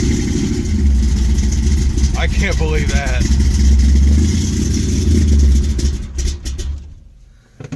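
An old muscle car that has been sitting idles roughly with a low rumble after a cold start, blipping slightly, while people talk nearby; the engine drops away near the end.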